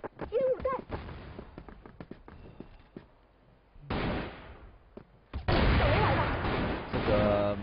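Grenade blasts go off in a professional Counter-Strike league match: two loud, broadband bursts with gunfire-like crackle, the second heavier and sustained, mixed under excited commentary.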